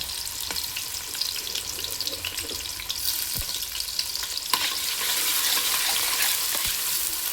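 Spinach (palak) stirred and fried in a pan, a strong continuous sizzle broken by occasional knocks and scrapes of the stirring spoon, growing a little louder midway, no speech.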